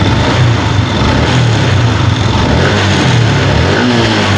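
A Rusi Sniper 150 or Raider 150 motorcycle engine held at high revs, around 9600 RPM, giving a steady loud drone with a buzzy low rumble that continues through the whole stretch with no speech over it.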